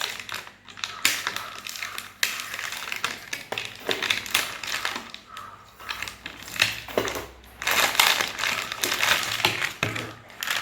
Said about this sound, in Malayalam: ഇനി ആവശ്യത്തിന് പഞ്ചസാര ഇട്ട് കൊടുക്കാം.